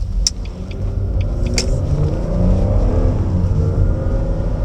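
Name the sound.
Jaguar X-Type 2.5 V6 estate accelerating out of a turn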